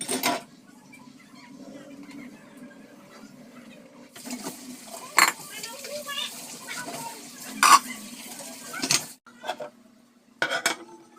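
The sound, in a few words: washing dishes, plates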